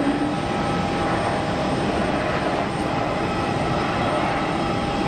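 A Swiss airliner's engines roar in reverse thrust while landing at Geneva Airport, a loud, steady broadband rush with a faint whine, continuous for the whole stretch and heard without voices.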